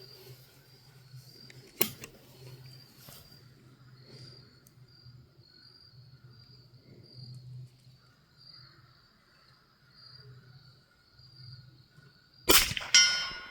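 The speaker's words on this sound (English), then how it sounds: "I want to take off these sights here" Sights being removed from a Springfield Model 120a .22 rifle: a sharp metallic clink near the start and a brief clatter of handling at the end, both close by, over a steady chirping of insects.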